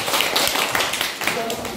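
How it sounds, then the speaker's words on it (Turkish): Applause for boxing medal winners at a school ceremony in Ağcabədi, Azerbaijan: a brief, dense patter of hand clapping from a crowd, steady and fairly loud, with voices mixed in. "Alkışlar"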